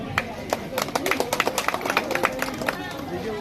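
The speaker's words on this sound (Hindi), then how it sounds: "तालियों के साथ स्वागत किया जाए विधायक जी का" Audience clapping to welcome an MLA at a block-level health fair at the Bishnugarh community health centre: a dense run of claps from a crowd, fairly near, with voices and babble underneath throughout.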